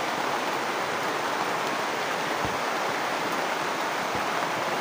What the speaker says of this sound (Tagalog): Ngayon masyadong umulan naman.